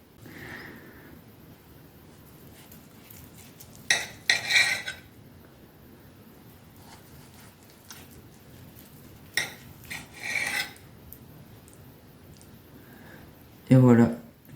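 A knife slices an upturned boudin blanc terrine with apples in short bursts of scraping and clinking against the dish, while someone talks throughout.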